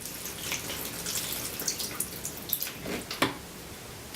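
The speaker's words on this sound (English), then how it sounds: "And then I just pour that on into the tray." Liquid seaweed fertilizer water splashes and trickles into a shallow seed tray, a soft continuous watery patter with a few brighter drips, close and fairly quiet.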